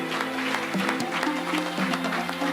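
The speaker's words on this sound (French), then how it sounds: "s'il vous plaît, sous vos applaudissements" Studio audience applause at the grand final of a French entrepreneurship reality TV show, a steady dense patter of clapping with sustained musical tones underneath throughout.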